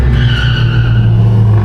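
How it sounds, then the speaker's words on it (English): Tires screech loudly and continuously on pavement around a Dodge Hellcat and Hellcat Durango, a sustained squeal with a rumbling engine underneath, close and steady for its whole short length. "I'm hearing tire screech, that's not us."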